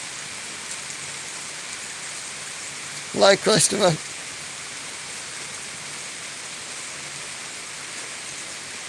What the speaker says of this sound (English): What I thought was the rumble of the train is just heavy rain in the mountains.